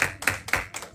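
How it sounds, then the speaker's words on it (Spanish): Church congregation applauding in brief bursts, with a few sharp claps spaced about a quarter second apart, close and fairly quiet. "Dele un aplauso al Señor"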